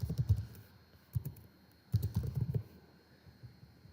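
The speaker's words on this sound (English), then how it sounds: "I can just type all of this in my calculator" Numbers are typed on a computer keyboard into a calculator: three short clusters of soft, rapid key taps separated by brief pauses, quiet and close, with no talking.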